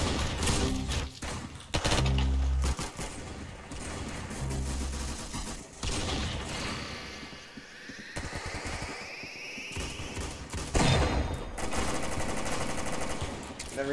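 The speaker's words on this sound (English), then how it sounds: "The recoil on this gun is wacky." Rapid, dense bursts of automatic gunfire with heavy thumps and whooshing effects from the Roblox game Arsenal, loud and continuous over about fourteen seconds with layered game sound.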